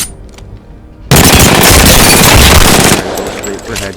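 Loud, rapid automatic fire from the RE-45 pistol in Apex Legends as a full magazine is emptied, a dense burst of nearly two seconds with quieter activity before and after.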